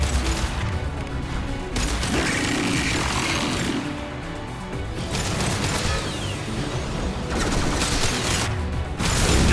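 Heavy gunfire in Mass Effect 2 comes as dense, loud, continuous bursts of shots and mechanical clatter, with a sharp surge near the end and no talk.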